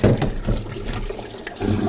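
Tap water runs steadily over spring cabbage leaves being washed in a kitchen sink, a close, continuous splashing flow with small shifts as the leaves are handled.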